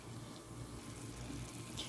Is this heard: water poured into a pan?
yes